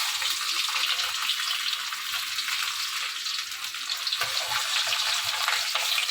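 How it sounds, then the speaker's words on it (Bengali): Chopped garlic frying in hot oil for dal gives a steady, close, broadband sizzle that runs unbroken throughout, with faint stirring clatter underneath and no talking. "রসুনটা একটু ভালো করে একটু ফ্রাই করতে হবে।"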